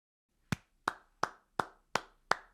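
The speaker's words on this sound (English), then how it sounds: "Gotta clap it up." Six sharp hand claps in a steady, evenly spaced rhythm, close and clear with no talking over them.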